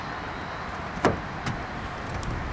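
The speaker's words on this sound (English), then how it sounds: "And the door closes right up." The power sliding door of a 2025 Honda Odyssey minivan finishes closing with a soft latching thud, followed by a fainter click, over a steady background hiss.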